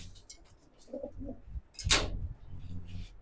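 A racing pigeon, a prize-winning female from a flying bloodline, gives a soft, low coo followed by a brief flutter-like rustle. The sound is faint and close, in a quiet setting.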